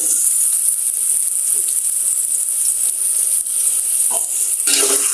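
Bitter gourd stir-fried in plenty of oil, a loud, steady high hiss of frying with a few soft stirring scrapes near the end, no voices.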